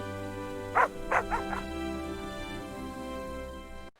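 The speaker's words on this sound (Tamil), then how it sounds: "அர்ஜுன், உங்க நாய் ரொம்ப விசுவாசமா இருக்கு." A small dog yaps a few times in a quick burst early on, then falls quiet over a steady background hum.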